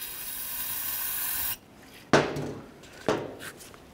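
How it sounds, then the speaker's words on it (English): Brake cleaner sprays onto the brake caliper slider ports of a 1998-2011 Ford Ranger. A steady aerosol hiss stops, then two short, sharp bursts of spray follow, close and fairly quiet, with no talking. "So I'm just going to use a little bit of brake cleaner."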